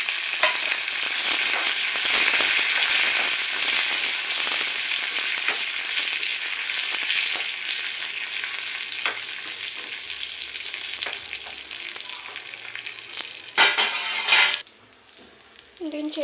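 Curry leaves and dried red chillies crackle and sizzle in hot oil, a bright, steady frying hiss that thins out near the end, ending with a brief louder burst of sputtering.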